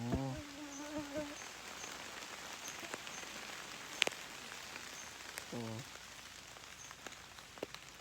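Soft, steady patter of rain falling outdoors as the sun comes out, with scattered drops and faint insect buzzing in the background, a few brief human sounds breaking through now and then.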